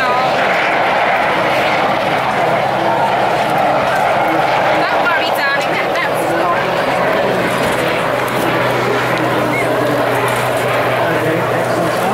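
A loud, steady roar of a helicopter engine and rotor at an air show rescue demonstration fills the whole stretch, close and continuous, with a voice speaking faintly underneath.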